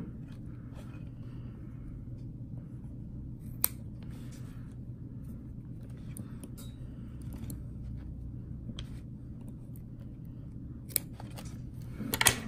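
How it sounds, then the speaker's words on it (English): Scissors snipping cotton wick for a vape coil on a Vandy Vape Pulse Dual squonk mod kit, with a few sharp close cuts over a low rumbling background and some light handling noise. "Cut the cotton."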